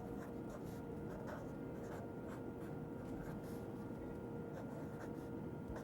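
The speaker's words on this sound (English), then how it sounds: "Write the quantity in the underneath." A pen writes a quantity onto a paper form, producing faint, close scratchy strokes in short bursts over a low, steady background hum.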